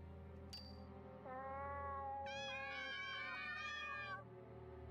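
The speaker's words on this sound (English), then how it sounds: "Demonic cat." A demonic cat in a video game lets out drawn-out, wavering meows, one rising cry followed by a longer, higher overlapping yowl, clear over a low steady hum.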